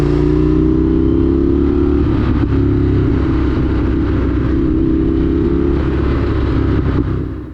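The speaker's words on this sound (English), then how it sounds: "the sounds, the experience of riding an American V-twin" Indian FTR1200S, a 2019 American V-twin motorcycle on dirt track tires, rumbles steadily and loudly up close, a deep throbbing engine note holding nearly constant with slight rises, no voices.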